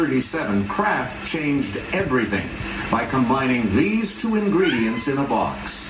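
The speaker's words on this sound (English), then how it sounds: "it's got a cat in it meowing" A cat meows repeatedly near a quiz-show broadcast, its cries mixed in under steady continuous talk from a host and contestants.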